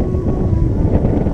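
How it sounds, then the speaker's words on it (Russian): Strong wind buffets the microphone on the windy summit of Shikhan Yuraktau, a brief loud roar of low rumbling gusts with no voices. "Но знай, что здесь очень ветрено."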